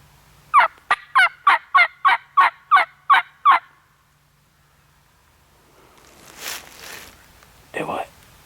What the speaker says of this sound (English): That's another one in there, deeper gobbler.